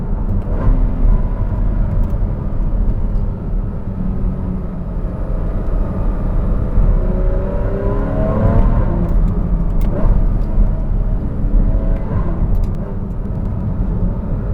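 Porsche 981 Cayman S fitted with F1 headers, driven in sport mode with manual paddle shifts on a narrow road, its engine droning loud and steady from inside the car with rising revs partway through.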